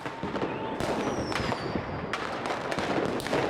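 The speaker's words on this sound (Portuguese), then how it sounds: "Está ouvindo o barulho dos fogos?" New Year's fireworks pop and crackle at a distance in a dense, irregular string of sharp bangs, moderately faint and with no talking.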